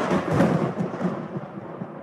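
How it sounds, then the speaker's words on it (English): A low rumble of thunder rolls and fades over about two seconds, heavy and diffuse, with no voices. "I can hear the sound of thunder."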